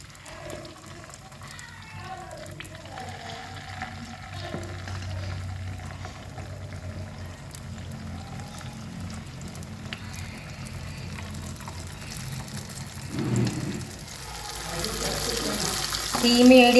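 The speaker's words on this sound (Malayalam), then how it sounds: "എണ്ണ ചൂടായി വന്നിട്ടുണ്ട്. ഇനി കുറേശ്ശെ അരപ്പ് ഇതിലോട്ട് ഒഴിച്ച് കൊടുക്കാം." Unniyappam batter poured into hot oil over a medium flame gives a soft, steady sizzle and bubbling that grows louder and brighter toward the end.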